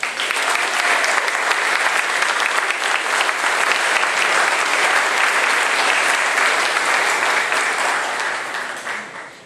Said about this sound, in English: a nice round of applause for the honorary Steve Stepanek